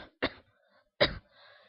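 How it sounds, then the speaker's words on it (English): Two short, sharp dry coughs from a man with a lingering cough, separated by about a second of quiet, close and alone. "Yes, I still have that cough."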